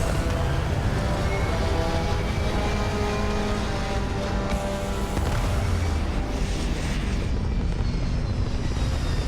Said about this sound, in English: Initiating takeoff processes. Liftoff complete.